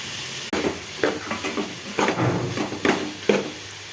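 Spoon stirring turmeric and spice powders into a pot of sambar, a few soft scraping strokes with a light sizzle underneath, close and fairly quiet.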